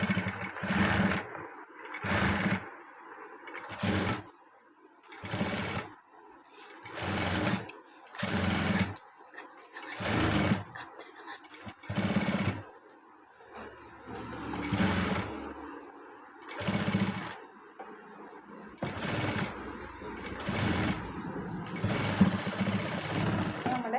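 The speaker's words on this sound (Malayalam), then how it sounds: "മുകളിൽ കൂടി തയ്യൽ കൊടുക്കുക." A sewing machine topstitches along a garment's neckline in a run of short bursts, loud and close, each whirring stretch a second or two long and separated by brief pauses, with a longer continuous run near the end.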